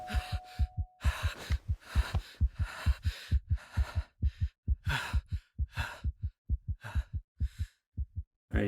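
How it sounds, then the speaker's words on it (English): Heartbeat effect in the video game Esoteric Ebb, a loud, close, deep double-thump pulse repeating steadily and somewhat fast, with breathy airy swells between the beats and no talking. "you can stop the heartbeat noise anytime"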